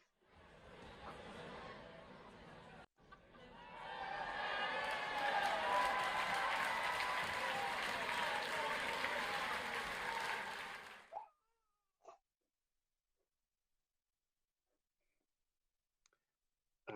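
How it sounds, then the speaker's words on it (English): Applause from online graduation attendees with microphones unmuted for a university economics ceremony, a dense, steady wash of mixed clapping and clicking that runs for several seconds, then cuts off abruptly into silence with a few faint stray clicks. "if I can ask you all to unmute your microphones and a round of applause"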